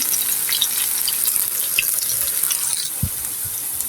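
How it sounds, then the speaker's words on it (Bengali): Yardlong bean pakoras fry in hot oil with a steady, bright hiss and scattered crackles, plus a couple of low knocks near the end, close and continuous. "এই তো আমার এক পিঠ ভাজা হয়ে গিয়েছে আমি এখন সবগুলো এইভাবে উল্টিয়ে দিব দেখেন"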